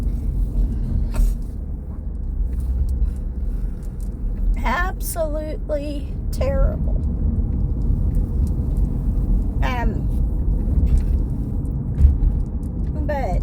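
A car's interior rumble rolls on at a steady low level while someone drives, and a voice speaks over the engine and road noise through the middle of the stretch.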